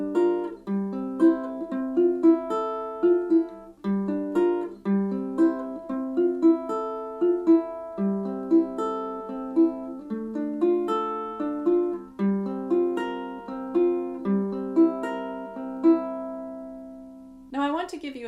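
Acoustic guitar strumming a verse of a song at 115 beats per minute, steady rhythmic chord strokes ringing clearly and alone throughout.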